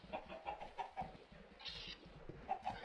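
Minecraft chickens cluck in short, repeated bursts at close range, a few soft calls overlapping with light background noise and no talk.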